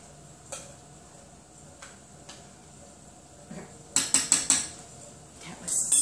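A metal spoon stirring pumpkin soup in a bowl for the microwave: sparse light clinks at first, then a quick burst of several sharp scraping clanks against the side, ending with a final rattle.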